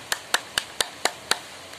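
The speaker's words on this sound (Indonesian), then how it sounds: "Ya, tepuk tangan." Six sharp hand claps at an evenly spaced, steady rhythm, close by and fairly quiet, in a scout skills session with no one talking.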